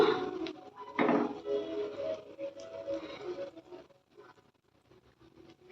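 Kuzhi paniyaram made with palm jaggery being turned in a pan over a medium flame, giving light clatters and scrapes of metal on the pan, a sharper knock near the second mark, then quieter taps.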